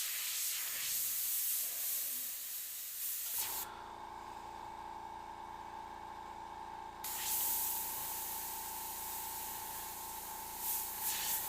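A mid-size professional spray gun for painting, an LPH 80, hisses steadily and loudly for several seconds with a tonal edge, close to the listener, with no speech over it.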